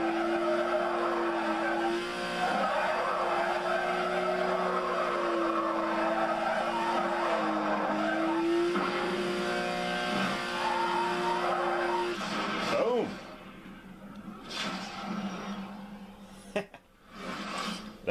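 In Need for Speed Carbon, a car drifts with a long, steady tire squeal and engine drone under game music, then the skid breaks off into shifting revs and scrapes near the end.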